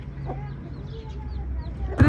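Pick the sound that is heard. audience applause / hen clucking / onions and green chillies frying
hen clucking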